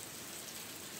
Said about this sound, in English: Look, it's raining right now.